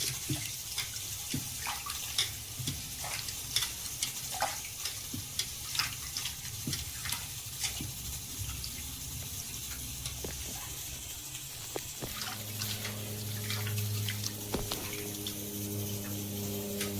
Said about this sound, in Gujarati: તે આપણે ચોખ્ખા પાણીથી ધોઈ નાખીશું.